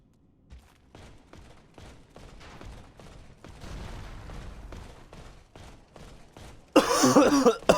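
A person coughs repeatedly in a rough, rhythmic series of bursts that grow stronger, ending in a loud, harsh fit.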